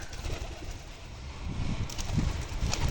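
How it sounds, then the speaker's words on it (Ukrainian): Pigeons on a village farm in southern Ukraine coo amid a rustling, fluttering wash of noise as the birds fly out, with louder bursts toward the end. "Голуби вилітають."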